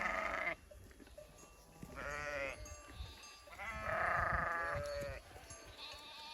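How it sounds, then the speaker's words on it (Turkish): A flock of grazing sheep bleats outdoors, several drawn-out, quavering calls overlapping at moderate distance over a steady background hiss. "Koyunlar da güzel yayıldı."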